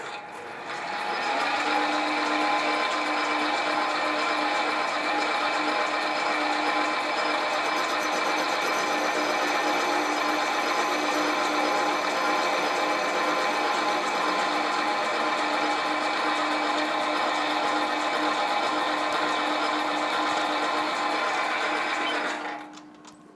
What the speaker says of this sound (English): I'm going to face off this end here